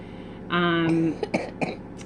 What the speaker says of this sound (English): there's that cough still.